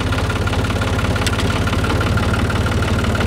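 A Fiat 500 Special tractor's diesel engine pulls away slowly in first gear with the clutch eased out, a steady low chugging throb with a rhythmic knock running throughout, close and loud.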